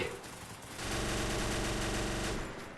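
Sustained automatic gunfire from a weapon in the mobile battle-royale game Free Fire, a loud, dense rapid burst that starts after a brief lead-in and keeps rattling steadily for about two seconds.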